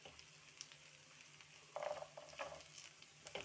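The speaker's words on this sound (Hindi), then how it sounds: "मेरे पास रोस्टेड काजू पड़े थे, और थोड़े से अब हम फ्राई कर लेंगे" Roasted cashews frying in a pan with ginger-garlic paste for matar paneer bhurji, giving a soft steady sizzle with brief louder bursts of crackling as they are stirred, close and moderate in level.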